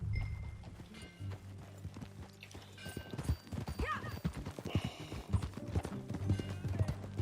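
Horse hooves clip-clop steadily at a riding pace in Red Dead Redemption 2, with a brief whinny and a low musical drone underneath, no talk.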